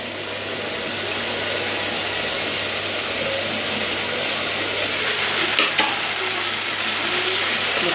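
Rui fish, flat beans and potatoes fry in a pan, a loud, steady sizzle that carries on without a break, with faint stirring scrapes near the end.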